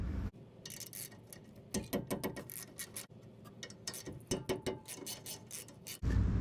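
A 13 mm socket on a ratchet turns rear brake caliper bolts, giving quiet, close clicking bursts in uneven runs with short pauses between strokes.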